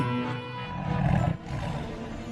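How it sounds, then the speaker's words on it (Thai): Tiger and lion roaring together in a forest, a continuous, loud, growling roar with a short dip before it swells again, no talk. "ทั้งเสือโคร่งและราชสีต่างแผดเสียงเถียงกันลั่นป่า"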